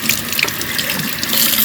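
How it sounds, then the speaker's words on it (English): Tap water running into a sink while canning jars are rinsed, a steady close splashing stream that swells slightly near the end, with no voices. "What I'm doing is I'm just taking them and rinsing them off."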